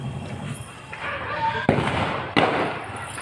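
Ganga Jamuna diadem firecracker bombs go off during village Diwali celebrations: two sharp, loud bangs a little under a second apart, over an ongoing crackle of fireworks with faint voices around.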